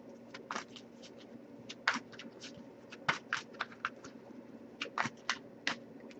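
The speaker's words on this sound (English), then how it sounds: "I'll give it a few more shuffles" A deck of tarot cards being shuffled up close, a series of crisp riffling bursts at irregular intervals over a low steady hum.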